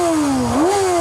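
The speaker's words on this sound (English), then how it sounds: "this is the exhaust sound of a ZX6R" The exhaust of a Kawasaki Ninja ZX6R 600cc inline-four superbike howls in a brief, loud rev whose pitch sags and then climbs again.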